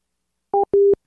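A telephone busy signal right after a caller hangs up: two short, loud electronic tone bursts, the second longer, alone against silence.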